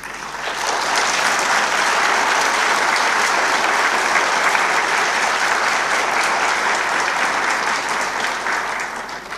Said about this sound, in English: so we should congratulate ourselves with a big applause.